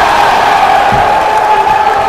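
Crowd at a high school basketball game between Chofetz Chaim and YFR, a steady roar of cheering and voices in a gym, loud and sustained with a faint thump beneath.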